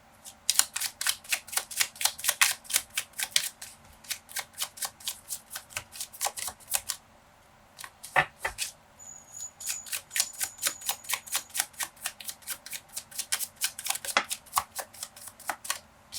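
Tarot cards are shuffled and drawn by hand in a quiet room, making close, rapid papery riffles and flicks in uneven bursts with brief pauses between them.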